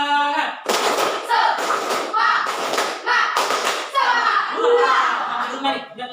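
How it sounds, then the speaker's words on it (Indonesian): A classroom of students performs a rhythmic Indonesian spirit clap, loud bursts of hand claps in a patterned beat mixed with shouted children's chanting. "Tepuk semangat."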